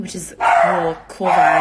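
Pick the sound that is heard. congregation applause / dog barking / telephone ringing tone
dog barking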